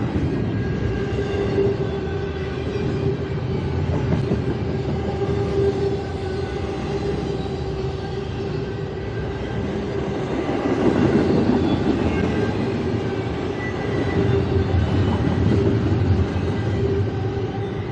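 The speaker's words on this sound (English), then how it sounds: "Yeah, the brakes are really screeching on there." Brakes on a slowing train keep screeching, a sustained close metallic squeal with shifting pitch over heavy rolling rumble, swelling louder in the later seconds, with no voices.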